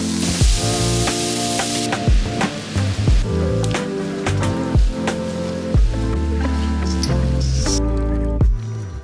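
Creamy chicken orzo sizzles and squishes in a pan at home, the frying sound continuous beneath rhythmic background music with steady beats.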